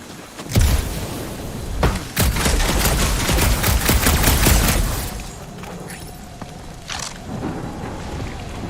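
Gunfire in the video game Marvel's Guardians of the Galaxy: a dense, loud burst of rapid shots rattling for several seconds, followed by scattered single blasts and a low hum as the firing thins out.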